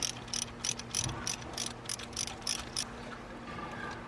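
A ratchet wrench clicking in a quick, steady rhythm while loosening a pulley bolt on a Porsche Cayman engine, close and fairly clear over faint background hum.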